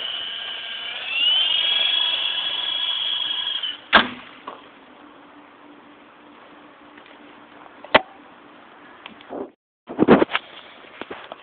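A DH 9104 RC helicopter whines steadily at high pitch, then its motor cuts off into a sharp crash impact, followed by a low hum and a few more clatters and knocks nearby, with no talking.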